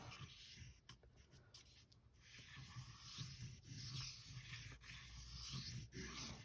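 Colored pencil scratching and rubbing across paper over Sharpie marker, a close, steady scraping texture with a few brief pauses, no talk.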